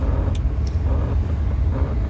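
A car travels along the road from Virar toward Palghar and Dahanu, its low engine and road rumble steady and close, with a couple of faint higher clicks and no talking.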